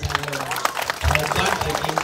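Applause at a Balinese Calonarang performance, a crowd clapping steadily at moderate volume with voices and crowd noise mixed in, and a speaker talking over it.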